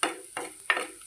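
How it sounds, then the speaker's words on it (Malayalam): Coconut pieces stirred in a pan over a low flame while cooking a Kerala white chickpea roast, three quick scraping strokes with a soft sizzle between them and no voices. "തേങ്ങക്കൊത്തിട്ട് ഇളക്കണം. അത് ഇളക്കി ഒന്ന് കളറ് മാറുന്ന വരെ ഇളക്കണം ചെറുതീയിൽ."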